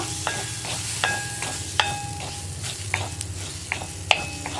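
Tomatoes fry and sizzle in a pan under a steady hiss for a masala curry, while a spoon scrapes and taps the pan in close, regular stirring strokes. No one speaks.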